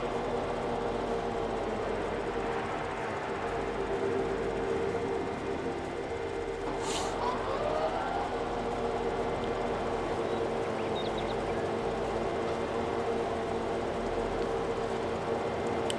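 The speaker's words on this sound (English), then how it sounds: "The noise of the mower will be away very shortly." A mower engine in the farming game Farming Simulator 22 drones steadily and loudly throughout, an unbroken mechanical hum with no speech over it.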